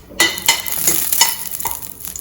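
Dried chillies and crushed garlic frying in hot oil for a broccoli stir fry, a sharp sizzle with repeated scraping stirs of a spoon in the pan, close and fairly loud.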